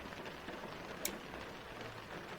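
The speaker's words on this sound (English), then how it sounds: "I have like this ASMR of rain on a car background noise" Rain on a car, recorded as ASMR: a soft, steady patter of drops on the vehicle, faint and continuous, with one small sharp tap partway through.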